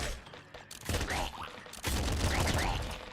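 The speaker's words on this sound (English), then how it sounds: "I feel like the triple machine gun is, I wouldn't say underrated, but doesn't get taken enough by me or by people in general." Triple machine gun fire in the video game Nuclear Throne comes in two loud bursts of rapid, overlapping shots with a brief gap between them. Other game sound effects are mixed in.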